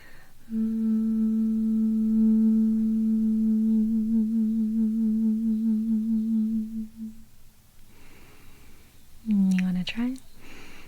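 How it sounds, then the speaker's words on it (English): Gentle humming from a single voice holds one low, steady tone for several seconds, then trails off. After a brief pause a short rising hum or vocal sound follows, close and calm. "We'll start with some gentle humming."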